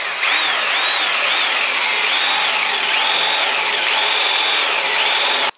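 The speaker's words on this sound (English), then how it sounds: "I'm going to carefully place the drill bit up to the point that I made a minute ago, push in a little bit, and then I'm going to start drilling." A power drill bores into a bathroom or closet door for a lock, whining loudly and continuously up close, its pitch dipping and recovering several times as the bit bites into the wood.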